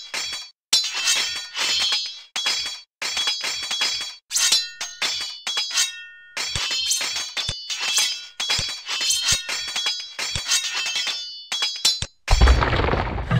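An outpost building collapsing under attack in the Age of Empires campaign, heard as a dense run of loud glassy clinks, cracks and shattering bursts repeating for many seconds, ending in a rough crumbling rush.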